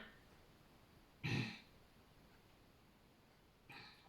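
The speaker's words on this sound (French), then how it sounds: "Je sais pourquoi je tousse." Two short, muffled throat-clearing coughs, close by in a quiet room, the second one softer and a couple of seconds after the first.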